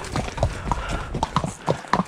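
Hooves of a racehorse being ridden in Lambourn clip-clop in a quick, steady rhythm, close and distinct, with faint breathing and movement noise between the strikes.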